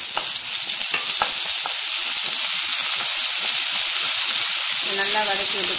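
Onion and ginger garlic paste sizzle steadily in hot oil, a dense continuous frying hiss with a few clinks of stirring early on.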